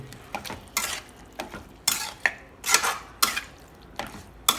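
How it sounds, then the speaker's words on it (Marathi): Chicken masala being mixed in a pan, a rhythmic run of loud scraping strokes and clinks of a spoon against metal, roughly every half second over a soft sizzle, close and without any talking. "ओके आता ह्याला थोडंसं प्रॉपर मिक्स करून घेऊ"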